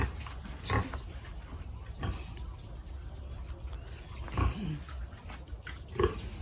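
Pigs on a Thai farm being fed in the morning, grunting and squealing close by in bursts over a constant rustling, shuffling background, with no talk.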